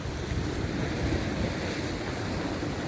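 Strong sea surf surging against the shore at Maragondon Sanctuary, a steady, loud broadband wash of water with heavy wind buffeting the microphone throughout, no talk.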